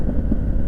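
Strong wind buffets the microphone in an open garden landscape, a steady loud low roar with gusty surges throughout and no other sounds standing out.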